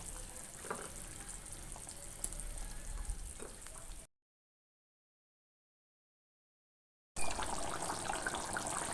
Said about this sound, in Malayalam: അപ്പോൾ കറി നന്നായി തിളച്ച് വന്നിട്ടുണ്ട്.